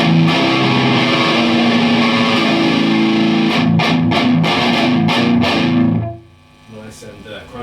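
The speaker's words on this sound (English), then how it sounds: "Nice and crunchy, sort of grindy tone there" Bass guitar played through a TC Electronic Rush booster on an amp's distortion channel, giving a loud, crunchy, grinding bassline with steady sustained notes and rhythmic attacks for about six seconds before cutting to a quieter tail.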